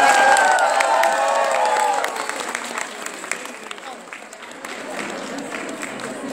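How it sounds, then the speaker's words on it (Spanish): An audience at a Mary Kay Peru first-anniversary event breaks into loud applause and cheering, the clapping dense at first and then thinning into scattered claps with voices and whoops mixed in. "le demos un fuerte aplauso a nuestras directoras nacionales aquí"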